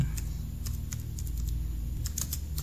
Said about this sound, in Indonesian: Kemudian ketik durasi